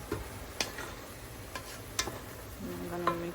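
Onion and garlic are stirred in a pan, giving a faint, quiet sizzle broken by a few sharp clicks of the spoon against the metal.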